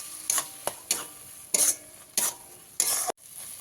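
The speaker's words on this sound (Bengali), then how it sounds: "টমেটোর পেস্টটা দিয়ে খুব ভালো করে ভেজে নিয়েছি" Tomato paste frying in a pan for a Bengali potol chingri (pointed gourd and prawn) dish: a sizzling hiss broken by several sharp stirring scrapes at irregular intervals, close and fairly quiet, with no talking.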